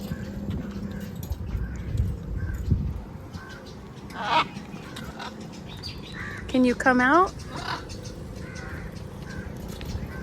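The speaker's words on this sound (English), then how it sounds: "Look at all these beautiful birds, guys." Tropical birds on Maafushi island in the Maldives give faint scattered calls and one louder harsh squawk, all beneath a voice and steady outdoor background noise.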